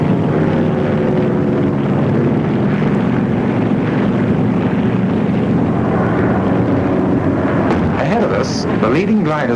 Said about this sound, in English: There are fighters above us, bombers that tow us, and Dakotas dropping parachute troops.